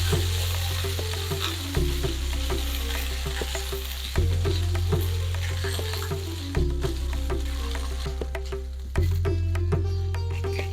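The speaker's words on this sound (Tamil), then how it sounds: "எண்ணெயில் வந்து நான் ஷாலோ ஃப்ரை பண்ண போகிறேன்." Small eggplants shallow-frying in oil for a Chettinad eggplant curry: a continuous, close sizzle with stirring, plus a steady tonal background that repeats in sections.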